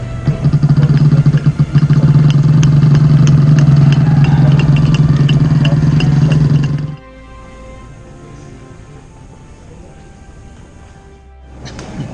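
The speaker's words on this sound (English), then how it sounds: "When you push the button, it starts the engine." A loud Harley-Davidson motorcycle engine, push-button started, idles with a rough, throbbing rumble, then cuts off abruptly about halfway, leaving quieter background noise and a faint revving near the end.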